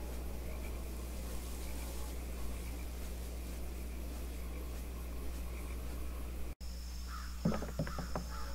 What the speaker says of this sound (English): It actually has the crows in the day and then the frogs in the night.